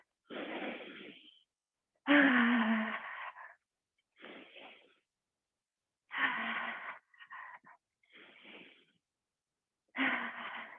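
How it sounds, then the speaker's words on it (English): Deep, loud breaths come close up during a workout warm-up, with about seven separate breathy inhales and exhales split by brief silences. "Take a few deep breaths."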